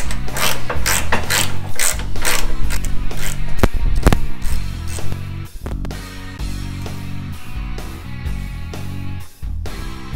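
Ratchet wrench loosening 10 mm fender bolts on a Chevrolet Colorado ZR2, a loud, close, rapid clicking that runs in steady bursts for the whole stretch, pausing briefly between strokes.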